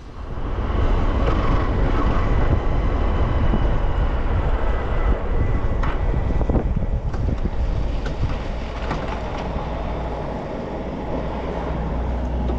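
A Honda Unicorn motorcycle cruising on a highway at 80-85 km/h, steady loud rush of wind buffeting the microphone over a low engine drone, continuous throughout with no talk.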